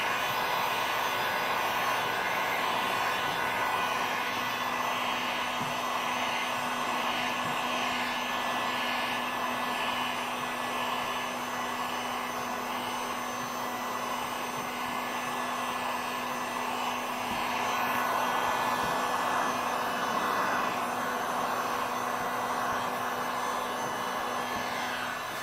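A heat gun blows a steady, even hiss and whir while shrinking a cover onto a 2017 Ford Mustang, running without a break and swelling slightly near the end, with no talk.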